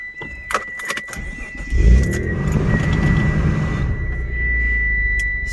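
A 1995 Mitsubishi 3000GT VR4 engine cranks and catches after a few light clicks and key jingles, then settles into a steady, fairly loud idle close by with a constant high whine.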